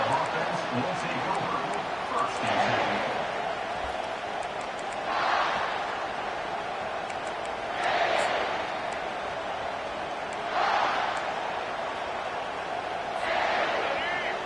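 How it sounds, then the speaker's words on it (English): A stadium crowd in the College Football 25 video game roars in a broad, distant wash that swells in regular waves, steady and loud throughout. "This crowd bringing an ear-splitting welcome to their visitors."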